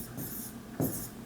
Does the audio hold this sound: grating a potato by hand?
no